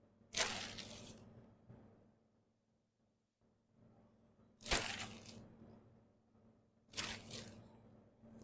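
Frozen raspberries are crushed and cracked by hand over a Black Forest gateau, three short crisp crunching bursts spaced a few seconds apart, close and quiet.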